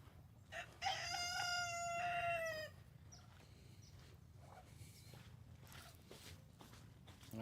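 A rooster named Sabrina May gives one loud, clear crow lasting about two seconds, followed by quieter farmyard sounds and faint background rustling.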